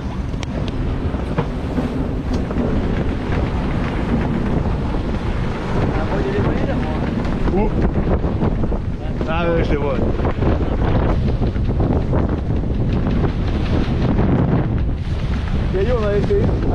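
Heavy wind buffets the microphone aboard a sailboat at sea with a south wind, a constant loud roar mixed with water rushing along the hull, while people talk briefly under it.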